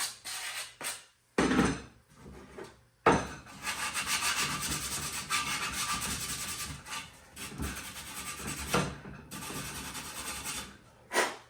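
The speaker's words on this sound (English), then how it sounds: "Almost forgot to sand that face." Rhythmic rubbing strokes of sanding on wood, in bursts separated by short pauses, fairly close and steady.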